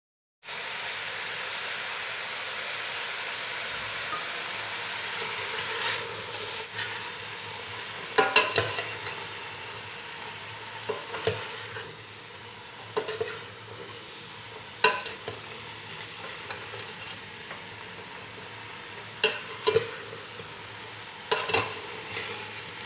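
Green beans frying in a pan with onion and meat give off a steady sizzle, broken by repeated sharp scraping and clattering as the mixture is stirred.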